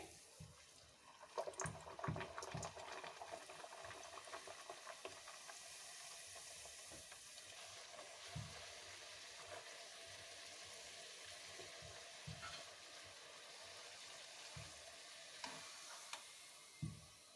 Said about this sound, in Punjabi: ਤੇਲ ਹੁਣ ਚੰਗੀ ਤਰ੍ਹਾਂ ਗਰਮ ਹੋ ਗਿਆ ਏ ਇਹਦੇ ਵਿੱਚ ਪੂਰੀ ਪਾ ਦਾਂਗੇ